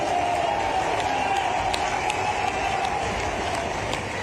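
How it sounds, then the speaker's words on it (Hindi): Audience applause at a college-related public gathering, a dense steady wash of clapping that holds loud and even throughout without breaks. "आप जोरदार ताली बजाओ तो आपकी बात पे विचार करता हूं।"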